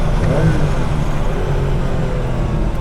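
Fast street-car engine pulling hard through third and fourth gear on a flowing road, a loud continuous engine drone with rising tone filling the whole moment, no speech.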